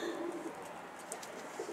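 Soft, low coos of black-headed tumbler pigeons repeat close by over a steady outdoor hum, with faint chirps mixed in.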